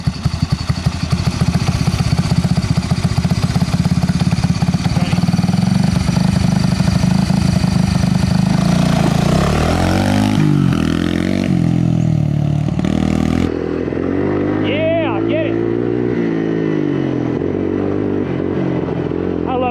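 A 1986 Honda ATC250 Big Red three-wheeler engine runs loud and close, a steady throbbing rumble that shifts partway through and settles to a lower idle near the end.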